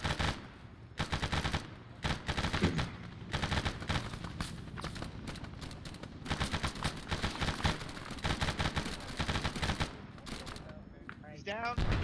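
Rapid bursts of automatic gunfire crackle through a video game firefight, dense and continuous with short pauses, while voices talk over the shooting.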